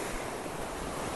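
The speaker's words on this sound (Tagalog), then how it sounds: "tingnan nyo yung alon mga ka-safety" Ocean surf surging under strong wind on the shore, a loud, continuous roar of waves with heavy wind buffeting the microphone, no voices.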